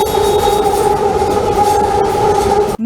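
A metro train runs along an elevated track past nearby apartments, giving a loud, continuous rumble with a steady motor whine that holds throughout before cutting off abruptly.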